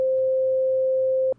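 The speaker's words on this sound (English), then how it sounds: "Carriers are basically just regular oscillators. They create the sound that we hear, and in this case, it's that sine wave." A pure, steady synthesizer sine tone from a carrier oscillator holds at one pitch for over a second, then cuts off abruptly with a small click, leaving faint low background.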